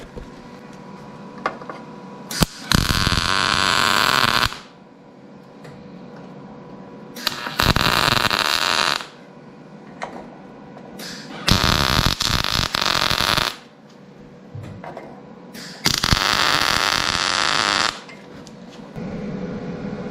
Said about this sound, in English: Let's weld those screw holes shut.